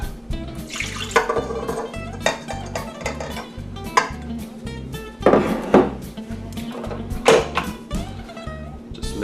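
Almond milk poured into a bowl of pumpkin muffin batter in a home kitchen, a liquid splash mixed with clinks and clatter of bowls and utensils.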